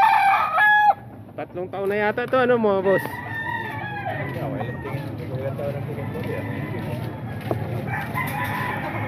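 Roosters at a market selling chickens in Baliwag give a loud, near crow at the start, then another drawn-out crow, with someone talking over ongoing clucking and market bustle.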